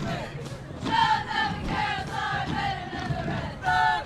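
Cheerleaders chanting in rhythmic unison at a Los Amigos vs. Rancho Alamitos varsity football game, several loud shouted phrases with short pauses between them, crowd noise running underneath.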